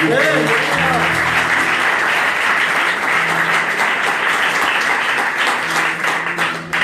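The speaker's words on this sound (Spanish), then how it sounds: "Dele palmas al Señor." Loud, sustained applause from a large church congregation fills the space, with voices and a low tone mixed underneath.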